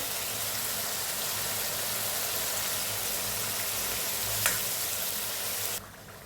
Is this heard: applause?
no